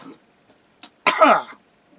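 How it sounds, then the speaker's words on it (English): A single harsh throat clearing merging into a short cough, close and fairly loud, preceded by a faint brief catch of breath. "I'm coughing up so much phlegm lately."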